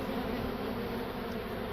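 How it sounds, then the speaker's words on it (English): A dense swarm of honey bees buzzes inside a fallen maple log during a hive rescue, a steady, loud, continuous drone heard up close without any talking. "There's still a lot of bees in here."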